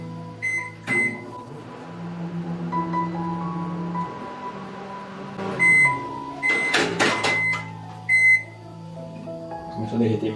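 A microwave oven running at medium power to melt chocolate, with a steady low hum and drone throughout, broken by a door and handling clatter and a few short beeps near the end; a voice speaks briefly.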